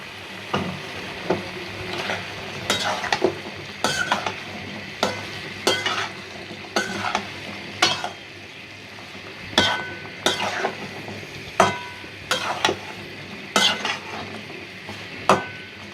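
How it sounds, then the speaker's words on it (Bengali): Vegetables stir-fried with beef and spices in a pan for bhuna, a low continuous sizzle under repeated spatula scrapes and metallic clinks in a steady rhythm, close with no talk. "তরকারিগুলো দিয়ে সুন্দর করে কষাইয়া তারপরে জল দিব।"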